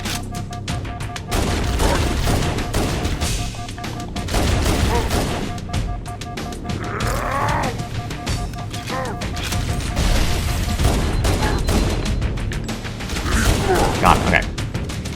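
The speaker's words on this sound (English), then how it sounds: "the DMR does fire quickly" Rapid DMR rifle shots ring out in Halo Anniversary, dense volleys of gunfire mixed with other weapons and explosions in a busy firefight that continues throughout.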